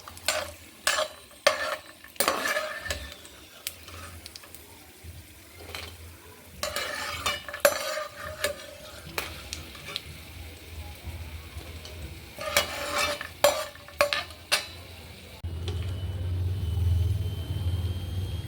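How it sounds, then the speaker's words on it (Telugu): Frying in ghee in a pan for ash gourd halwa: soft sizzling under intermittent spoon scrapes and clinks, then a denser, louder sizzle toward the end, with no talk. "ఇలా ఫ్రై చేసుకోవాలండి."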